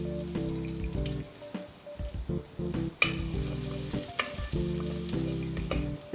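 Ginger and garlic sizzling in coconut oil in a clay pot over a low-medium flame, a close, steady crackling fry broken by bursts of stirring and a sharp clack or two.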